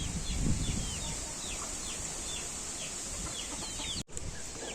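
Chickens and chicks cluck and peep in a steady stream of short calls over a constant rush of strong wind in a village.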